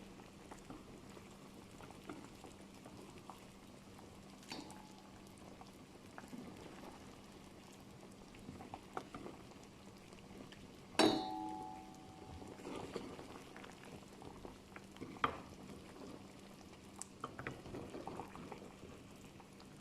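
Thai pork belly palo stew simmers in a pot with a soft, steady bubbling, quiet and close, broken by a few clinks and a brief tap around the middle.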